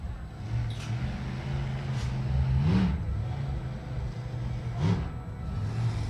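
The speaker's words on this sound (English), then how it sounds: "they've got monster trucks running just about 25 yards from us right here" Monster truck engines rumble and rev in the background about 25 yards away at a bull riding event, a continuous low drone with a couple of rising throttle swells.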